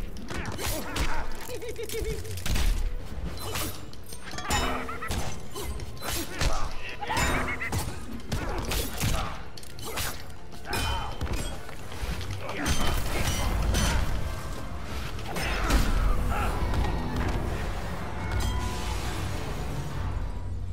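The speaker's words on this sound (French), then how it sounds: "La synchro sur les explosions de télé." Televisions exploding in the Injustice fighting game, a dense run of crashing, shattering and mechanical clatter lasting throughout, loud and close with game sound layered in.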